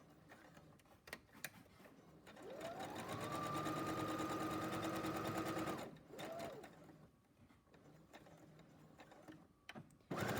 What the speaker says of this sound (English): We're going to do a little straight stitch.